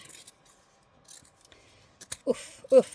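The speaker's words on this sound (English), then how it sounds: "I cut in and leave just about, I'd say, 1/2 inch, my thumb width, and I'm going to trim all the way around." Scissors cut through a denim jeans hem in a few short, crisp snips, growing louder toward the end, close up and quiet otherwise, with no talking.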